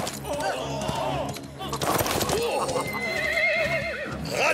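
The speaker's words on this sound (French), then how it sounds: "Rattrapez les chevaux!" An animated horse lets out a shrill, wavering whinny amid busy action noise and clattering in a cartoon Zorro western scene, with raised voices mixed in.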